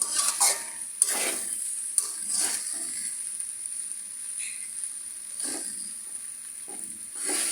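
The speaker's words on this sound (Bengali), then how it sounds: "তখন আমি আর একটু নাড়াচাড়া করে নামিয়ে ফেলব।" A spatula stirs homemade noodles in a hot pan, giving soft scraping strokes over a faint, steady sizzle, with a few clinks of metal. It sounds close and fairly quiet, with no one talking.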